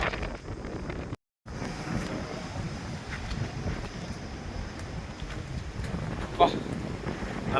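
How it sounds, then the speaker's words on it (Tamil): Strong wind on a hilltop at Pulikundu Hills, a continuous loud buffeting roar across the microphone with a brief dropout and a sharp gust near the end. "காற்று ரொம்ப ஆடுது பாருங்கள்"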